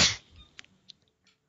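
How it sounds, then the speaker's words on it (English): A person gives a single sneeze, a sharp burst right at the start that fades fast, followed by a few faint small clicks and breathy sounds in quiet surroundings. "I gotta sneeze."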